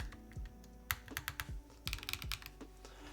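Typing on a mechanical keyboard fitted with keycaps, a quiet burst of irregular clacky keystrokes close by, with no talk.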